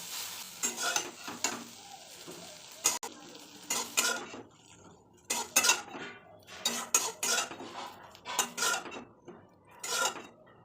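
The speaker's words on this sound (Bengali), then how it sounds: "দিয়ে দিলাম সোয়াবিন আমার ভাজা হয়ে গেছে" Soybean chunks fry in a pan while a utensil stirs them in repeated scraping bursts over a quiet sizzle, with metallic clinks between strokes.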